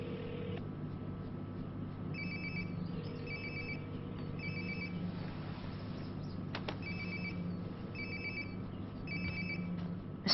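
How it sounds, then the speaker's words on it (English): Phone ringing in the video game Life Is Strange: Before the Storm, a repeated electronic ringtone in short bursts with brief pauses, moderately loud over a low ambient hum, with no voices. "Sounds like my phone is definitely nearby."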